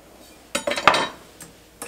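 A knife works through four limes and a lemon on a board in a home kitchen, giving a short cluster of close, crisp chops and clinks followed by a couple of lighter taps, with no talking.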